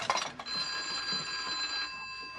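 A telephone rings steadily with a bright, sustained bell-like tone, loud and continuous for about two seconds with no talk over it.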